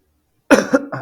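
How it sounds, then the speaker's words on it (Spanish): A single short cough after half a second of silence, close and fairly loud, with a brief trailing vocal sound. "Ay, esta tos."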